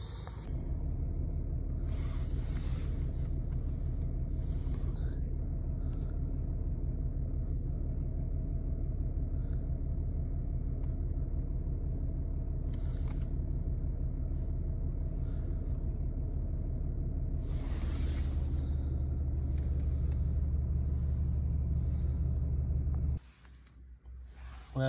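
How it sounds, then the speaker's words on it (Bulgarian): A BMW E90 with newly tuned Stage 1 software and a removed DPF idles with a steady low rumble, punctuated by a few brief hissy bursts, before cutting off near the end. "Това е BMW-нцето с новия софтуер."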